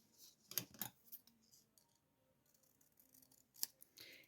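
Scissors snipping through folded paper, a few quick crisp cuts near the start and another pair near the end, close and quiet with soft handling noise between.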